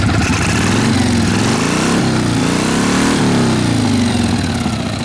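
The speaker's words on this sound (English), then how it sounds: "We're going to R up the bike and see if it's smoking or not." A 1948 Harley-Davidson FL Panhead chopper with a hot engine revs up close and loud, rising in two smooth swells over its lumpy idle and then dropping back down.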